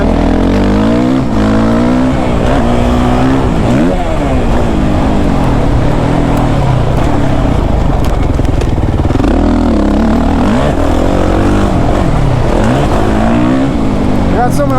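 A Suzuki RM-Z 450 dirt bike engine roars loud and close, rising and falling in pitch as the rider revs through gears off-road, with a rider's voice talking over it.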